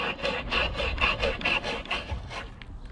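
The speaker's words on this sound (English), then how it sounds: "I'm going to get the reamer in, get it lined up, and I'm just going to start reaming." A hand reamer grinds through a hole in wood on a Roman-style workbench, making a steady run of about eight rhythmic rasping scrapes, close and moderately loud, with no talking.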